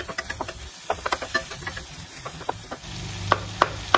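Tomatoes for chutney sizzle softly in a pan with frequent taps and scrapes of a spoon stirring, irregular clicks close by, no voices.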